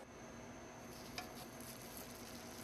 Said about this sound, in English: we're just going to saute that crepe a little bit